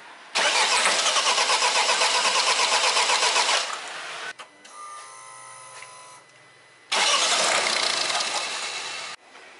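A diesel car with an injector and diesel pressure sensor fault cranks for several seconds in a loud, rhythmic whir, falls quiet, then cranks loudly again, close by with no talking.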